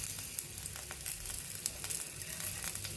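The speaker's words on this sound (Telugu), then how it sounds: "పచ్చిమిరపకాయ పేలకుండా శుభ్రంగా వేగుతుంది" Green chillies frying with spices like coriander seeds and cumin in a pan, a steady soft sizzle with faint crackles, close and quiet.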